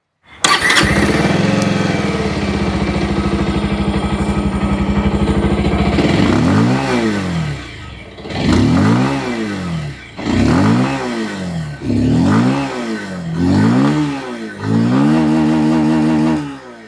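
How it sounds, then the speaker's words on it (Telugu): A 2026 Bajaj Pulsar 150 motorcycle engine idles with a steady exhaust rumble, then is revved four or five times in rising and falling bursts, loud and close. "సో ఎగ్జాస్ట్ సౌండ్ ఏ విధంగా ఉందో ఒకసారి చెక్అవుట్ చేద్దాం"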